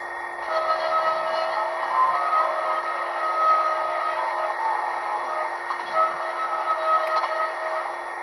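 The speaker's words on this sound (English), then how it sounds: "Flange squeal." Flange squeal from a Hornby Class 66 TT120 model diesel locomotive's sound decoder: a steady, sustained metallic squeal with shifting tones running alone for the whole stretch, fairly loud and even.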